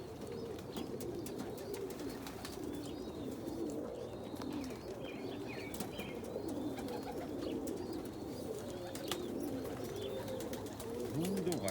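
Indian fantail pigeons and powder pigeons cooing softly in a pen, a low continuous murmur of coos under steady ambient noise, with faint chirps from other birds.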